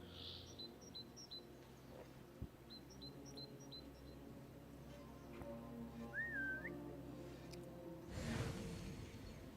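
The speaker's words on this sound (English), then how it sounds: "he didn't hear me whistle" A short, rising whistle sounds once at mid-distance in the Assassin's Creed Mirage video game, faint against a quiet ambient bed with occasional chirps and a rushing swell near the end.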